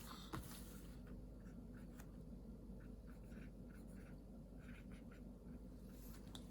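A pen writing a unit of measurement on paper, soft scratchy strokes in short bursts, close and quiet, with no talking.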